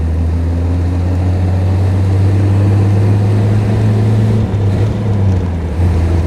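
The engine of a 1933 Lagonda M45 prototype drones loudly and steadily while the car is driven, with a brief dip near the end as it shifts, and no voices.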